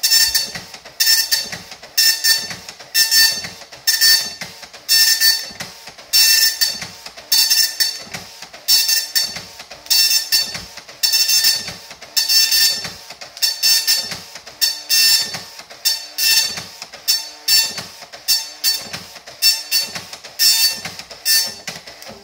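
A 24-pin dot matrix printer printing a tattoo stencil, loud rhythmic bursts of high buzzing print-head passes repeating steadily for about twenty seconds, each separated by a short mechanical pause, close and alone.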